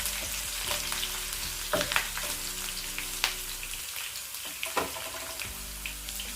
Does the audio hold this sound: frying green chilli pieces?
yes